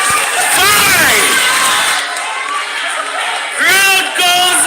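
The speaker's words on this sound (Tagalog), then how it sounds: "Crowd goes wild." A crowd at a basketball championship playoff game in Eastwood whoops and cheers loudly in two big surges, with excited shouting voices carrying throughout.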